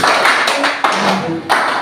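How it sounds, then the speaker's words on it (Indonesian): Classroom applause as students clap for a classmate during a lesson, a few loud, uneven bursts of hand claps close by over about two seconds. "tepuk tangan kepada"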